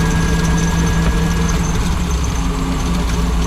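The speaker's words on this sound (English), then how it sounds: "So in gear, out of gear, it's got some ridiculous vibration, but not at idle." A 1989 Lamborghini Countach engine runs loud and steady at close range, a dense continuous drone with a rough, vibrating low end and no pauses.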